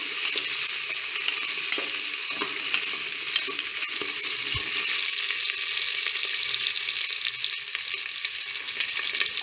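Four green chillies and vegetables for sambar are sautéed and stirred in a hot pan: a continuous close sizzle with repeated scraping stirs and a few light knocks, no talking.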